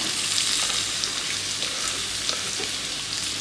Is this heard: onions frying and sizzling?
yes